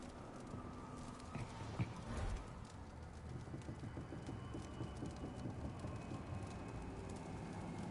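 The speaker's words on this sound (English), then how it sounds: "sounds like it's either getting windy or getting stormy" A faint, steady rush of wind and stormy weather fills the ambience in Dragon Age: The Veilguard, a low continuous roar with soft irregular patters running underneath throughout.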